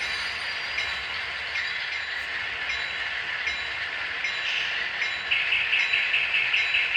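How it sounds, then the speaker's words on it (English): An HO scale model train pulling empty gondolas, running steadily with a continuous whirring motor and rhythmic clicking of wheels on track joints, growing slightly louder toward the end. "Here we have an empty gondola train"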